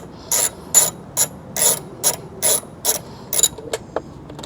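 Ratchet clicking in short bursts while an intake bolt is backed out on a 2025 Honda Civic Type R during a PRL intake install; about ten quick, close ratcheting strokes with brief pauses between them.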